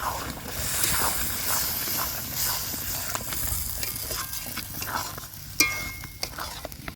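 Spice paste with chopped tomato, peas and a splash of water is stir-fried in a pan, giving a steady close sizzle with scraping stirs and occasional sharp clinks of a utensil.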